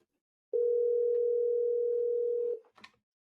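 A Mitel business phone system dial tone, a steady continuous tone holding for about two seconds at close range, cut off abruptly, followed by a faint brief click or rustle.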